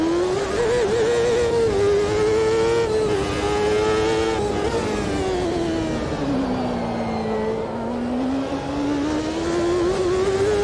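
Race car engine in the sim racing game Automobilista 2 drones steadily and loud throughout, its pitch sagging slowly through a long corner before climbing again, with no talk.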